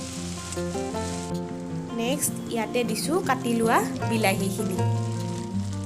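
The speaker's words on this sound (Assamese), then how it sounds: "এইখিনি এতিয়া মই অলপমান লৰাই পিনে ভালদৰে ভাজি লৈছোঁ" Ginger-garlic paste and tomatoes fry in a pan for mutter paneer, giving a steady sizzle under continuous talk, with spoon stirring sounds mixed in.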